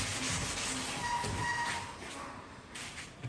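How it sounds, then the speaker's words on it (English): Steel wool soaked in stripper scrubs over an antique wooden school desk, a close, steady rasping rub that softens toward the end. "I'm going to do this 3 times using the stripper, the steel wool, 3 times over the whole thing"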